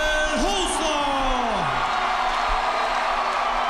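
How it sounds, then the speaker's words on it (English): A crowd at an MMA cage fight roars and whoops loudly for the winner after a third-round TKO, with rising and falling shouts and a few thumps over a dense, sustained wall of cheering. "Definitely hear the crowd for him."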